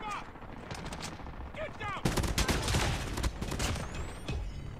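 Swordfish burst rifle fire in Call of Duty Mobile, rapid bursts of game gunshots that get much louder partway through, mixed with other battle effects and some voices.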